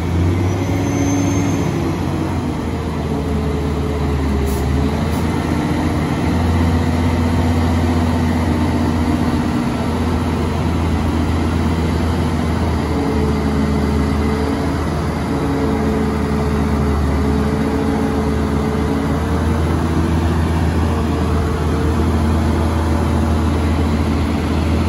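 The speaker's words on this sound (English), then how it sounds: "That is a big rig." A big-rig logging truck with eight-foot-tall tires idles in a deep, steady diesel rumble that holds constant and fairly loud, with no speech over it.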